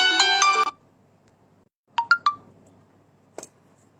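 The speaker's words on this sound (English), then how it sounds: "The phone goes like that the whole day." A phone ringtone plays loud and close, a bright burst of melodic tones that stops abruptly, followed by a few short chirping electronic notes and one more brief tone in an otherwise quiet room.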